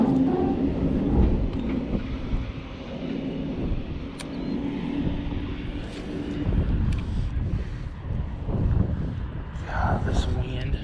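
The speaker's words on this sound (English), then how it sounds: "God, this wind." Outdoor wind while fishing in winter rumbles and buffets the microphone in uneven low gusts that carry on throughout, with voices speaking underneath.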